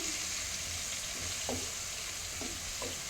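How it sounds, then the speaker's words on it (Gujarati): Green garlic sizzles steadily in a hot pan for Kathiyawadi dungadiyu, a close, continuous frying hiss with a few soft stirring scrapes and no talking. "હવે આપણે આ જે લીલું લસણ લીધું હતું એ નાખી દઈશું આપણે લસણને થોડુંક આપણે ચડવા દઈશું"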